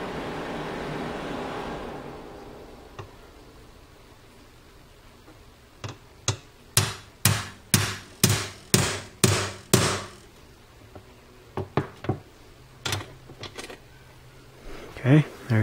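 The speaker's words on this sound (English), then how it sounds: "I got a little small hammer here." A small hammer taps a drywall screw used as a center punch: a quick series of about eight sharp, evenly spaced metallic strikes, then a few scattered lighter taps, heard close and with no talking.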